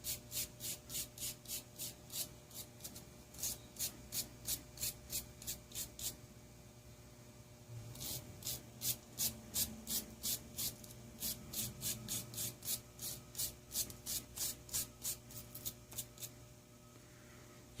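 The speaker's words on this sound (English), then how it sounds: "Found a little stainless brush." A small stainless steel wire brush scrubs a part of a Honda EU3000is generator in quick, steady back-and-forth strokes, close and fairly loud, with a brief pause partway through before the scrubbing resumes.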